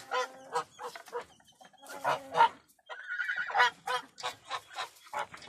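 Domestic geese, three white ones among a farmyard flock, honk repeatedly in loud close bursts, some calls overlapping in quick rhythm with brief pauses between.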